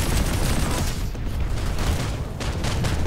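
Artemis weapon in Planetside 2 firing in dense, continuous bursts, a loud, near rapid rattle of shots with booming low end that persists across the whole stretch, alone without talk.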